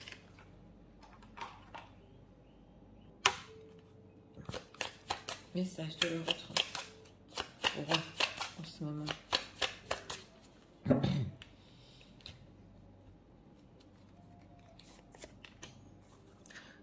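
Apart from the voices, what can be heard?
tarot cards being shuffled and drawn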